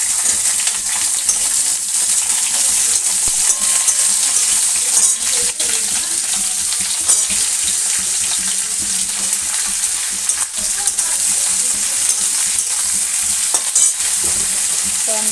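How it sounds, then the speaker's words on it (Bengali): Mixed beans, eggplant and radish fry together in oil in a wok, giving a loud, continuous hissing sizzle with a few scrapes and clatters from stirring throughout. "পাঁচমিশালি সবজি কড়াইয়ের মধ্যে আমি তেল চাপিয়ে দিয়েছি। শিম, বেগুন, মূলো সব একসঙ্গে ভেজে নেব।"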